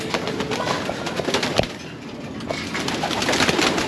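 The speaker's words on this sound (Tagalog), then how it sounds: "Yung mga ibon natin par, gutom na par." A flock of hungry pigeons coos and bustles together in a loft, with scattered wing flutters and restless shuffling over a busy, steady din.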